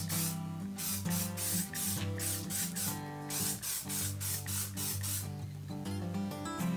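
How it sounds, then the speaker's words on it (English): WD-40, used as a mold release, hisses from a spray can onto concrete molds in a string of short, loud bursts over a steady background tone. "Make sure to spray your molds down with some sort of mold release. I like to use WD-40."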